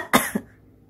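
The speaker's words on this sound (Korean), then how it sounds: "근데 너 왜 지금 기침해?" A single close cough, a sharp burst followed by a smaller second hack, then quiet.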